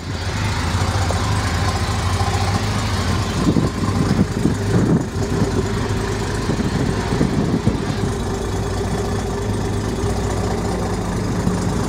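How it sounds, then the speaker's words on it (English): A 1970 Mercedes-Benz 280 SL Pagoda idles steadily up close at about 600 rpm, a low, even rumble with a faint mechanical ticking that holds without revving throughout. "You'll see the quality ticking over about 600 revs per minute at the moment."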